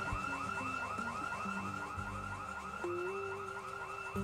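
A car alarm in the Project Zomboid video game wails on a steady repeating warble, loud and continuous throughout with no one speaking.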